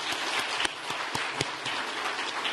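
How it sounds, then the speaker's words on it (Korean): A church congregation applauding the praise team and accompanists, a dense patter of many hands clapping at a moderate distance with a few sharper claps standing out. "우리 찬양팀들께 또 반주자분들께 우리 큰 박수로 격려했으면 좋겠습니다"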